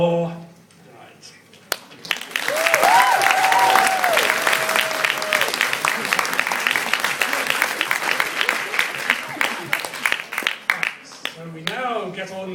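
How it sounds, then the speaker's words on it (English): Cheers and applause from an audience at a tort law lecture performance. Cheering voices rise at the start, then loud, sustained clapping continues for about ten seconds before thinning out. "And give 3 cheers and 1 cheer more for the judges of the court of law"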